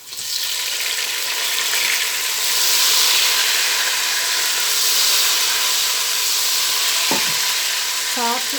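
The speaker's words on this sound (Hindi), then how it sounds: "प्याज हमारा ब्राउन हो गया। अब इसमें टमाटर डाल देंगे।" Browned onions and tomatoes frying for keema gobi give a steady, loud sizzle with stirring throughout, and a few clinks of a utensil near the end.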